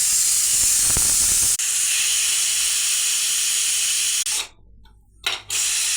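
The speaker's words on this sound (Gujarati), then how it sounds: "સીટી પડી ગઈ છે।" A pressure cooker cooking mung dal vents steam through its whistle in a loud, continuous hiss. It stops briefly, then gives one more short spurt of steam.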